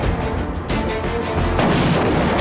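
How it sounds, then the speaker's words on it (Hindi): A missile strike explodes near a house in Lebanon, a loud broadband blast that erupts suddenly and rumbles on, with a second heavy surge of noise and debris close by, no voices heard. "लेबनानी पत्रकार ने अपने घर के पास मिसाइल हमले का वीडियो जारी किया।"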